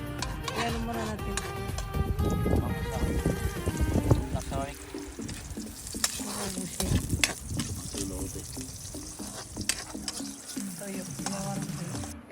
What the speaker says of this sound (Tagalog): Ito mga guys, magluluto tayo ng pansit.